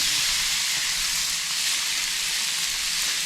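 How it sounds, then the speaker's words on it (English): Fajitas sizzle steadily in a pan at a campsite, a loud, even hiss holding for a few seconds with no talk over it. "So let's get over here and see if we can see some sizzle starting."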